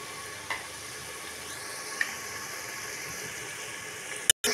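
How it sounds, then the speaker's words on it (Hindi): Aloo gosht frying in a pan with salt and yogurt, a constant close hiss of sizzling with a couple of light clinks from stirring and a brief sharp knock near the end. "ये देखिए इसको हम अच्छे से भून रहे हैं।"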